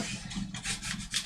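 Brisk back-and-forth rubbing scrapes residue off a 1/35 scale Airfix Cromwell Mk IV model tank, several short close strokes in quick rhythm, quiet and unaccompanied by speech.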